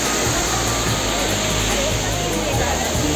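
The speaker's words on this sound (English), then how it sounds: "So this is the second waterfall, and the plunge pool." Water pours steadily into a plunge pool below the second waterfall near Shillong, Meghalaya, a loud continuous spray and rushing roar that fills the whole clip.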